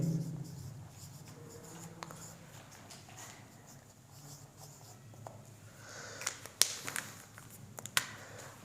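Someone writes a definition during a physics lesson, giving faint, scattered scratching and tapping strokes that grow sharper toward the end, with a teacher's voice heard briefly at the start.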